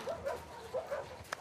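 Alice, the dog in the video game The Last of Us Part II, gives several short yips and whimpering barks in a quick burst, faint and close under game ambience.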